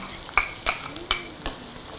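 Chopped onions and cumin seeds frying in hot oil for a mushroom pepper thokku, a soft steady sizzle under four distinct clinks of a utensil stirring against the pan, close by and fairly quiet.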